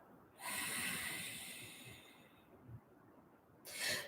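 A slow, audible ujjayi yogic exhale, a soft breathy rush of air that swells then fades, faint and close, followed by a brief sharper breath at the end.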